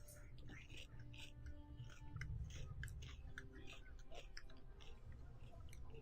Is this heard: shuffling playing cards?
no